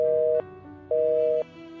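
Busy tone after a phone call is cut off, with two steady beeps separated by a pause, each lasting about half a second, clear and alone.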